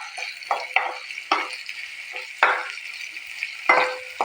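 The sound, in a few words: frying onions with ginger garlic paste in a pan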